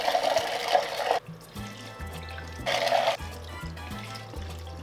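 A soaked noodle ingredient is rinsed under running water, giving two splashy bursts of flowing liquid separated by quieter dripping and trickling, with faint low tones in the background.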